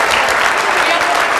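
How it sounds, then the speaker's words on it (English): A crowd claps loudly for a high school girls' basketball team in a gym, a dense burst of steady applause lasting barely a second and a half, with some crowd voices mixed in. "Let's give them all together one round of applause."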